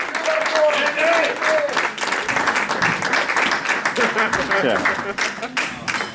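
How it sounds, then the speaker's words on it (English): A comedy club crowd at Banana's Comedy Club applauds and cheers after a stand-up set, dense clapping with whoops and a few voices calling out over it. "Give Andy a round of applause"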